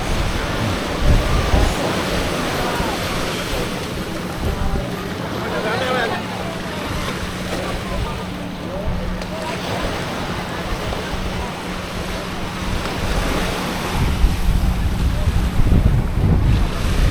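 A speedboat passes near a sandy beach at Praia da Daniela in Florianópolis, its steady low engine drone blending with breaking waves and wind for the whole stretch.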